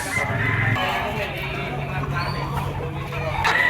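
A white-legged Boston banderado rooster at a poultry market in Padre Garcia, Batangas, clucking faintly amid steady market bustle and nearby talk.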